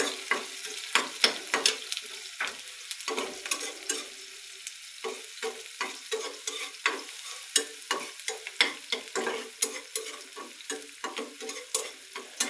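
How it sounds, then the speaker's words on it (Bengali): Tilapia fish with taro stems and chopped onion sizzling in a pan, stirred with a utensil: a steady frying hiss broken by frequent scraping, clattering strokes, close up with no talking. "এগুলো ভালো করে আমি এখন নেড়ে দেবো।"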